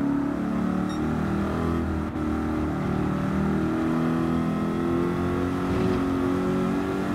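A Subaru race car in the Gran Turismo racing game holds a steady, droning engine note at high revs, a continuous close-up tone with a faint pitch climb near the end and no talk over it.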